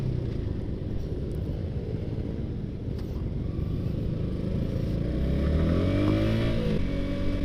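A Yamaha R15 V3 motorcycle fitted with a Ronin Hanzo NextGen exhaust, a steady throaty idle rumble that climbs into rising revs toward the end, close and loud.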